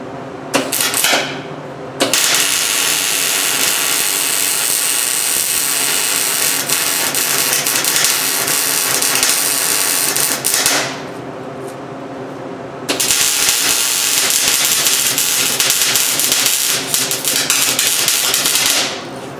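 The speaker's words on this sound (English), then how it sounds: "So keep that in mind as you watch me weld." A hobby welder lays beads on metal parts for a homemade arcade game elevator, giving a loud steady crackling buzz in two long runs separated by a short pause, close and without talk.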